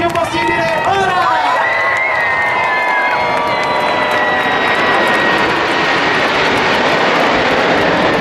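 A large outdoor air show crowd screams and cheers loudly as Frecce Tricolori jets roar overhead, the engine noise sweeping past in a sustained, dense wash with voices mixed in.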